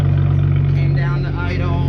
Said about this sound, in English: Cold start to finish it off.